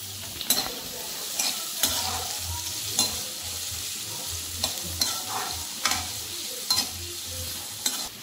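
Onions, green chillies and tomatoes fry for biryani, a soft sizzle broken by repeated stirring scrapes in an irregular rhythm, close and fairly quiet with no talking.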